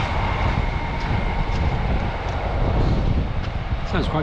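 A train passes somewhere in the Peak District countryside, a steady broad rumble with a faint tonal hum running under it for the whole stretch, with no break or fade.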